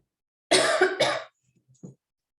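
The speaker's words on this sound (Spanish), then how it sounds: "perdón por la tos" Two close, harsh coughs in quick succession, followed by a faint throat sound, with silence around them.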